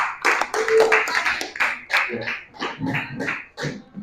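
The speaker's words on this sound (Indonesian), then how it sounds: "Beli tepuk tangan ke temanmu." Students in a classroom math lesson clap for a classmate in uneven, scattered bursts that rise and fall, mixed with young voices and chatter.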